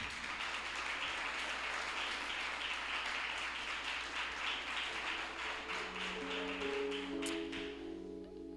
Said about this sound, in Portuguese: Você que pode aplaudir a Jesus pela sua palavra.